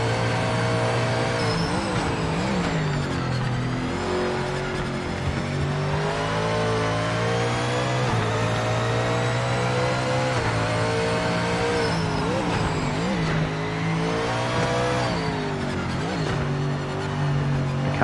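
A GT3 race car engine in the racing game Project Motor Racing revs steadily and changes pitch through repeated shifts. The loud, continuous drone runs throughout with no speech.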